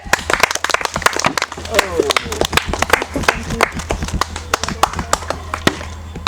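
Audience clapping at a kids' yogurt eating competition: quick, uneven hand claps that ring out loud and close for the whole stretch, with voices cheering and calling over them.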